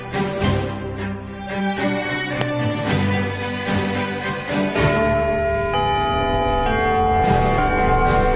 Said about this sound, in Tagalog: Hintayin nyo muna yung bell bago nyo sagutan